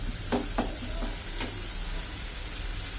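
Dried fish and eggplant sizzle steadily in hot oil as they are stir-fried in a pan, with a few sharp scraping clicks of the spatula near the start.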